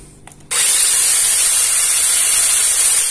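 A brief rattle, then a loud, steady aerosol spray of chain lubricant hisses continuously at close range onto a mini chainsaw.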